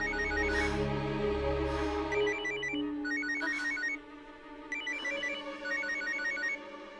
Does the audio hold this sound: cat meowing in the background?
no